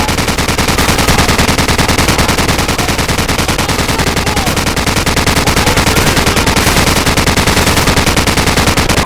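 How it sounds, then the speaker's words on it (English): Continuous loud automatic machine gun fire in the video game Call of Duty 4: Modern Warfare, a dense unbroken rattle of rapid shots with no pauses across the whole stretch. "Hit their flank with their machine gun."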